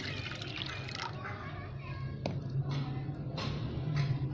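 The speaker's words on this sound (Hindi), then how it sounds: "तीन कप पानी हम इसमें डालेंगे" Three cups of water pour and splash into a pot of white daal mash in a few short bursts, close by, with light kitchen clatter and faint background noise.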